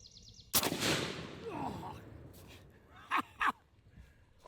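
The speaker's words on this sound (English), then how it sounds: "You just want to shoot it again." A single blast from a very large gun at an outdoor range with a sudden loud onset and a long decaying boom, followed moments later by two brief sharp bangs.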